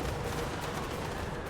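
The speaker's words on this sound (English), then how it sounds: "Outriders coming over here, immediately going to fire into the Sisters of Singing Doom." Dark Elves and Empire armies clash in Total War: Warhammer II as Empire Outriders loose their first volley of gunfire into the Sisters of Slaughter, a dense, continuous crackle of shots layered over battle noise.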